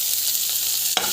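Chopped onions and green chillies sauté with salt in a hot pan for a white upma, giving a steady soft sizzle and one brief scrape of stirring near the end.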